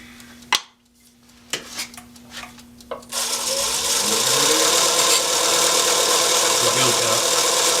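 Skew chisel shearing a cherry wood box lid on a spinning lathe, a few sharp clicks and taps at first, then a continuous loud rasping cut that holds to the end.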